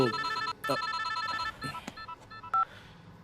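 A telephone rings in a Hindi film scene, giving short bright electronic tone bursts in quick succession, close and clear, with no speech.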